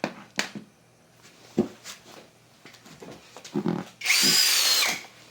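An MTDTD-156 impact driver drives a large bolt in one loud, rattling burst of about a second near the end, preceded by scattered knocks and handling clatter.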